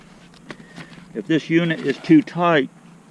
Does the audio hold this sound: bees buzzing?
yes